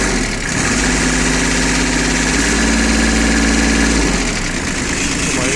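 A Shibaura SP1540 mini tractor's engine idles nearby with a steady, throbbing diesel rumble that holds evenly throughout.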